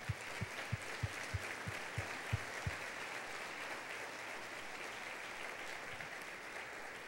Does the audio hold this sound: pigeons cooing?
no